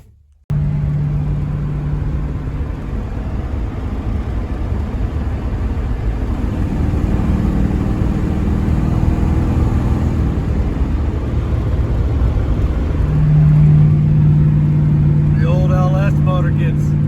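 An AMC Gremlin drives along a road, its engine a steady, low, loud rumble with road noise that rises slightly partway through; a voice starts talking briefly near the end.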